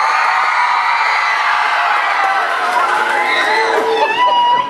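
A gym full of middle-school children cheers and shouts for Mr. Whiting at a spirit week contest, a loud, sustained crowd roar that fades out abruptly at the end.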